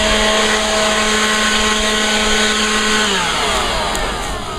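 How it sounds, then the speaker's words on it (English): A homeowner's electric leaf blower runs loud and close, a steady whining motor drone that holds level, then slides lower in pitch as it begins winding down near the end, with no talking. "I would recommend this blower mainly just for blowing off grass clippings off of the sidewalk, driveway, or patio."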